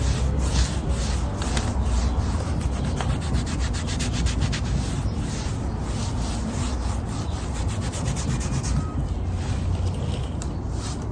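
A wooden bench is sanded, producing a steady, close rubbing rasp with a quick back-and-forth rhythm over a low rumble, continuing unbroken throughout.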